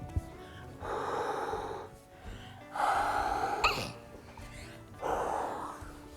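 A voice imitates an oven blowing hot air onto a toy pizza with three separate breathy whooshing blows, each about a second long with short pauses between them, in a quiet room.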